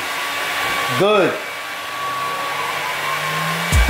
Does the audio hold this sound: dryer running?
yes